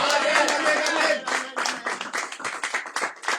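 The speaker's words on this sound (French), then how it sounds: "Est-ce qu'on peut acclamer avec puissance?" A church congregation claps and cheers together at close range, a dense steady burst of applause that loosens into scattered, uneven claps toward the end.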